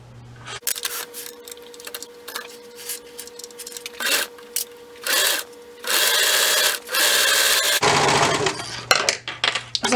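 A sewing machine stitches a tights seam up from the gusset in short bursts, interrupted by loud handling clatter, fabric rustle and clicks, all close and fairly loud.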